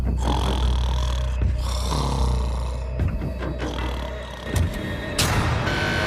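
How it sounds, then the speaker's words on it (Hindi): A man snores loudly through the night in a prison cell, with heavy rasping breaths repeating in an uneven rhythm close by, mixed with low rumbling background noise. "वो स्टूपिड कॉप सारी रात खर्राटे मारता रहा।"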